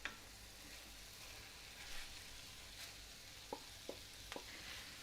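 Pre-roasted cauliflower and carrots dropped into a frying pan give a soft, steady hiss, with a few faint clicks and taps of the vegetables settling.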